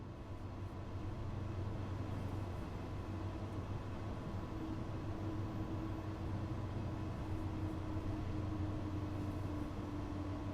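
Tram in Train Sim World 2 on the Dresden tram line, running with the train brake applied; a quiet, steady low rumble of rolling and braking with faint tonal hum, no voices.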